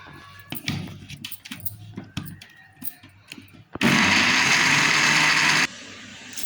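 An electric grinder whirs through a spice mixture with salt and crushed chili, a loud steady motor roar for about two seconds after scattered kitchen clatter, then cutting off abruptly.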